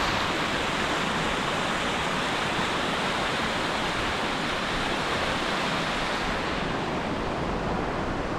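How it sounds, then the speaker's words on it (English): Fast-running water of the Tahune River in Tasmania, a dense, steady roar of rushing current that stays loud and unbroken throughout, close by with no voices. "Shows you how fast the water is running down this river,"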